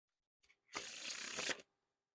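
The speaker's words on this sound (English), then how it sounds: "Now for a giant fan of the faces." A giant fan of Fontaine Watermelon edition playing cards spread face-up gives one quick tap, then a sustained papery whirr of cards sliding over each other, close and moderately loud.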